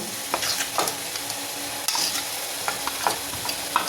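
Onion, tomato and ground spice paste sauté in a pan for a dry prawn curry, a steady close sizzle broken by repeated spatula scrapes and stirring knocks, with no talking.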